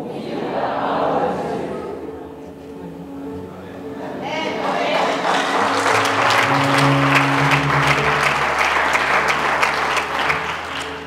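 A church congregation bursts into sustained applause and cheering partway through, growing loud and dense, with a preacher's voice heard before it begins.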